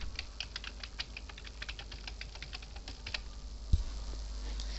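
Quick, light keystrokes patter steadily on a computer keyboard while a blog post with an embedded Google map is edited. The typing is close and fairly quiet, pausing briefly near the end.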